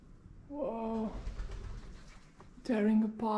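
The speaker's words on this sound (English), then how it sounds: "Birds." Pigeons or doves cooing inside an abandoned building, a close, repeated throaty coo from about half a second to one second, then another louder coo near the end.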